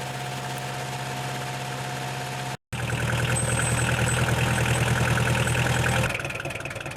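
A tractor engine idles steadily and loudly outdoors during autumn spruce blowdown salvage work in a forest, a continuous low drone with one brief dropout and a slight shift in tone toward the end.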